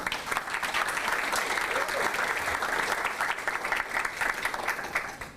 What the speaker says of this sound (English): So I give him a warm applause.